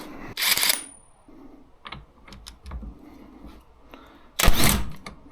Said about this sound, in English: That is a 21mm nut, which I'm told is very tight. And I have an impact gun, so why wouldn't I use it